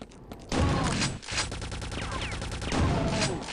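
A gun fires in the video game Quake 2 in loud, rapid repeated bursts that sound like a machine gun, with a brief gap in the middle and heavy impact thuds, close and dominant.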